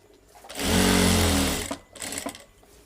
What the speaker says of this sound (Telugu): స్టిచ్ చేసుకోండి